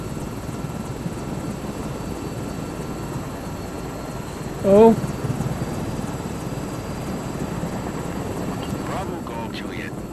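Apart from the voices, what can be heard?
helicopter in Microsoft Flight Simulator 2024 video game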